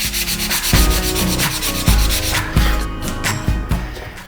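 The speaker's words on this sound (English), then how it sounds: "The putty's all dry, so we're just gonna sand it down." Dried wood putty on a small dollar-store item sanded down by hand: loud, close, rhythmic rasping strokes, about seven back-and-forth passes with no talking.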